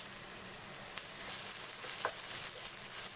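Turmeric powder frying in oil in a pan with capsicum, a quiet, even sizzle broken by a couple of brief utensil clicks, no talking.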